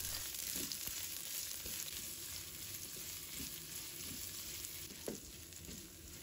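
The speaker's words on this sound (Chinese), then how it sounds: "油热之后把姜蒜放入锅里，开小火给它炒香" Ginger and garlic fry over low heat in hot oil in a wok, a continuous close sizzle with occasional faint stirring knocks and no speech.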